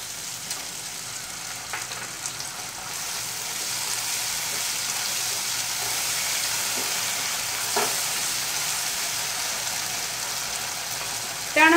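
Softened ginger and green chili sauce fry in a pan for idli manchurian, giving a steady, close hiss of sizzling oil with a few faint clinks of a utensil.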